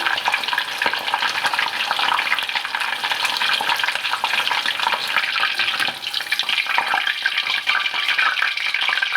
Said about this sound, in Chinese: 每个面各炸1分钟，然后就可以捞出来了。